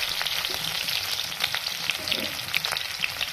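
Green chillies crackle and sizzle in hot oil in a pan while cooking sabudana khichdi, a steady close frying hiss dotted with sharp little pops and crackles.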